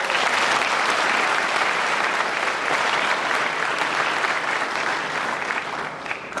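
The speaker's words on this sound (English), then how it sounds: "Another big round of applause for the chair." Large audience applause at a university chancellor inauguration, dense sustained clapping from a big crowd, loud and even throughout, easing slightly at the end.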